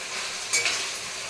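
Food fries and sizzles in a kadai with a steady soft hiss and a brief louder flare of crackle partway through, close and fairly quiet with no talking.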